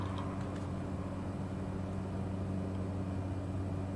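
Car traffic rumbles outside as a steady low drone with faint engine tones, continuous and distant, heard alone without speech.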